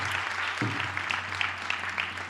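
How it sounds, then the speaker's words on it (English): A crowd at a temple gathering applauds, a dense steady patter of many hands clapping throughout the short burst. "Big round of applause."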